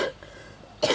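A short burst of coughing at the start, a brief quiet gap, then another sharp cough close up.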